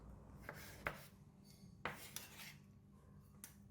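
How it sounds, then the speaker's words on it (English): A knife cutting a tomato into thin slices on a board for a Thai corn salad, soft, quiet irregular taps and scrapes alone without talk. "Cut the tomato into thin slices."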